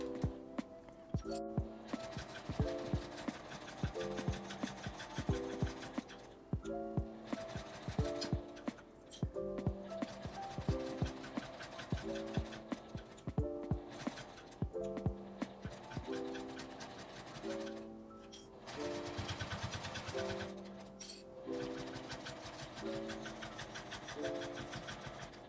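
A sewing machine stitches a glasses case made from Seria cut cloth. The needle clatters in short repeated bursts, with a few brief pauses between runs.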